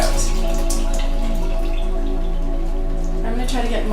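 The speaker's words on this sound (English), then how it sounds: "drain the water out" Water draining out of a jar of sprouting seeds, a steady pouring and dripping splatter, close and loud, with a low hum underneath throughout.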